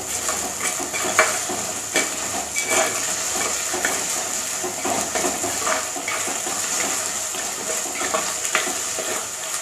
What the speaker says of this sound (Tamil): வெங்காயம் நல்லா வதங்கினாலே போதும்.